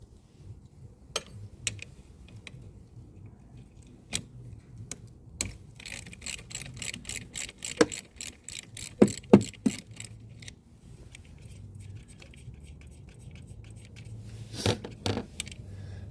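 A hand ratchet clicks as it loosens a 13 mm battery terminal nut on a Jeep Compass, quick runs of sharp metallic ticks in bursts with scattered clinks of tools, close and fairly quiet.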